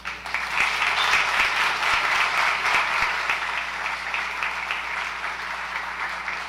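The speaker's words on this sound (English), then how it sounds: "Let's hear it for Brendan and Alex" An audience at the BSidesSF 2017 security conference applauds after a talk: a sustained burst of clapping that swells, then slowly thins out.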